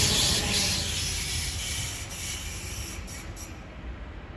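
Train passing through Gießen station, a continuous loud rushing and rumbling with hissing wheel noise and faint squeal, easing slightly toward the end, no talk.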